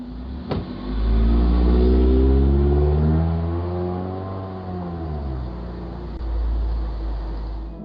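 A car drives off from a residential property, its engine rumbling loudly with rising and falling revving tones as it accelerates away, then settling into a steady fading drone.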